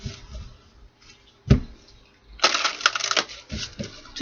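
Tarot cards are shuffled by hand in a few short, papery bursts of riffling clatter, close to the microphone, separated by quiet pauses.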